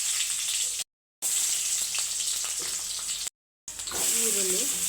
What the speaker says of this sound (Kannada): ಸ್ವಲ್ಪ ಎಣ್ಣೆ ಹಾಕ್ತಾಯಿದ್ದೀನಿ.